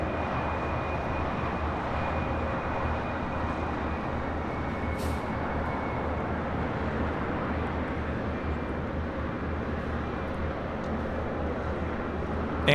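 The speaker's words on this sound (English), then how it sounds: "the United Dreamliner now rolling on 25 right" A United Boeing Dreamliner rolls for takeoff on runway 25 right at LAX, giving a steady, fairly distant jet-engine roar that holds throughout with no talk over it.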